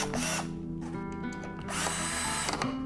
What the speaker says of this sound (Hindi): आपके पास स्क्रूड्राइवर होगा, स्क्रूड्राइवर की मदद से इसे